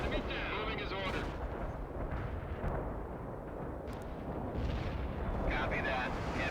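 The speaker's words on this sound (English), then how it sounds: "Heavy artillery barrage inbound." Heavy artillery barrage in the video game World in Conflict: a dense, continuous roar of overlapping booms and rumbling blasts, loud and sustained throughout, with indistinct voices briefly showing through the din.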